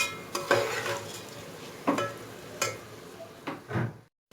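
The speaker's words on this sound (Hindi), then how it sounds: "बर्नर का आंच मैंने फुल रखा हुआ है और चावल फ्राई कर रही हूँ।" Rice sizzles in a pan over a high flame while a utensil stirs and scrapes it in several distinct sweeps, close and moderately loud, with the last scrape fading to silence.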